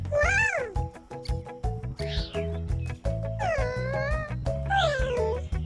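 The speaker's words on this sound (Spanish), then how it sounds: "Estos pequeños leones parecen gatitos, pero se llaman cachorros." Lion cubs give a run of high, wavering mewing calls, close and loud, one after another with short gaps between them.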